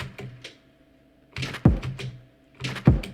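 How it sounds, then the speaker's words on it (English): A door closing, heard as two heavy, low thuds about a second apart, each with a short rattle, preceded by a couple of light knocks. "If it's not obvious, that's a door closing."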